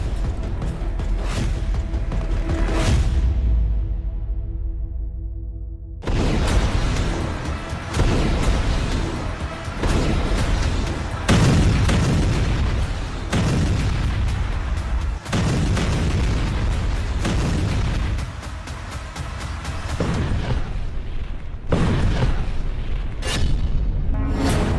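Bomb explosions in wartime news footage, a run of loud, booming blasts in quick succession, each followed by a rumbling decay, with no talk over them.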